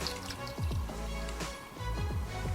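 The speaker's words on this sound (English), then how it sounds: "all you guys want to do afterward is add some hot water inside and just enjoy it" Hot water pouring into a cup of honey citron ginger tea, a steady liquid stream with bubbling drips, close and moderately loud, with no talk.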